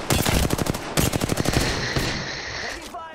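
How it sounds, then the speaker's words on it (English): Rapid gunfire from the Apex Legends battle royale game, a burst of loud close shots in quick succession that fades into a ringing, metallic tail, with voices faintly underneath. "Oh, Bangalore, is that my purple shotgun bolt I hear?"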